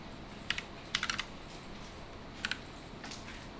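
Computer keys are pressed in small bursts for a Ctrl+J copy: single taps, then a quick cluster of three or four clicks, then two more pairs, crisp and close in a quiet room.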